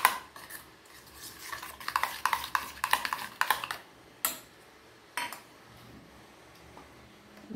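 Spoon clinking and scraping in a bowl while mixing spices and mustard oil for a steamed egg dish, a busy run of close metallic taps that thins out into a few isolated clinks.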